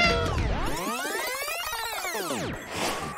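A cat meows in a long, rising and falling wail, loud and close, followed by a shorter second cry, with no talk over it.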